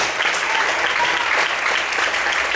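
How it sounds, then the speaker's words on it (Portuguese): Loud, steady applause from a church congregation fills the whole stretch, dense and even with no break, as if the entire room is clapping hard together. "Então aplauda o Senhor, bem forte."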